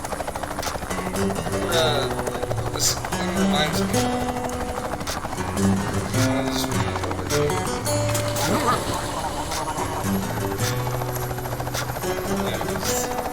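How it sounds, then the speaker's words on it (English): A helicopter in the video game Ty 2: Bush Rescue drones with a steady chopping rotor pulse beneath game music and effects, while a person talks over it. "I think there's a helicopter."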